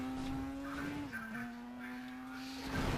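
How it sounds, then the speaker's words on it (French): A Chevrolet Chevelle overtakes in the racing game Need for Speed World, its engine holding a steady droning whine that dips briefly in pitch midway, over constant game noise. "Belle Chevrolet Chevel qui vient de me doubler là."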